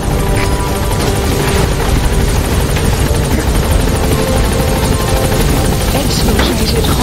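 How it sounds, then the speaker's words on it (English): Helicopter rotor and engine roar loudly and steadily as the aircraft lifts off in Metal Gear Solid 5, a dense continuous thump and whine filling the whole stretch with no pauses. "Gaining altitude."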